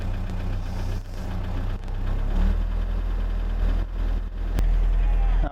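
An old vehicle engine running rough without the choke, a steady low idle with uneven dips and surges, close by, with a voice talking over it.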